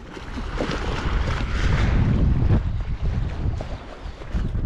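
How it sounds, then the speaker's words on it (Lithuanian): Strong wind buffeting the microphone at a riverside catfish fishing spot, a loud, gusting rumble that swells and eases throughout. "didelis vėjas"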